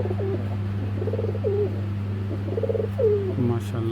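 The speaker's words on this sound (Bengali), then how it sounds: "ভাই একটা খাকি জোড়া দেখাবো, মাথা দেখবেন না কবুতরে" A pair of khaki pigeons coos in several soft, rolling phrases over a constant low electrical hum, close and fairly quiet, with no talk.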